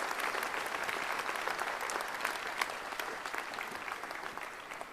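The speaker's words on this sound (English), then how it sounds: "Bring him on to the rostrum with a round of applause." A hall audience gives a steady, sustained round of applause welcoming a reverend speaker to the rostrum at a religious gathering, dense clapping filling the room without pause and no talking over it.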